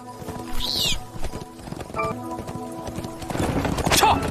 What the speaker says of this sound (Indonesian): seorang pria yang sedang mengendarai kereta kuda dengan terburu-buru